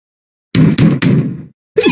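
Three quick raps on a door in a cartoon setting, the first two close together and the third ringing slightly longer, then a short pause before another sound begins.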